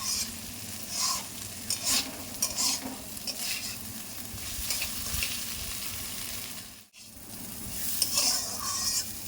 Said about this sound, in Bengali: চালটা একটু একটু একটু লালচে লালচে আমি ভাজবো, যেহেতু জিনিসটা রোস্টেড।